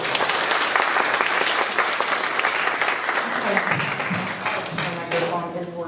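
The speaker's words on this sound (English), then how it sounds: "Round of applause." Sustained applause from a large audience, steady and loud for several seconds, with a few voices rising beneath it toward the end.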